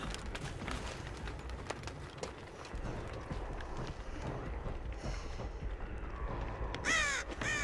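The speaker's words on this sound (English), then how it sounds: "Shut up, bird." A crow caws in the Dead by Daylight video game, a few harsh calls among steady game ambience, with footsteps and a louder cawing burst near the end.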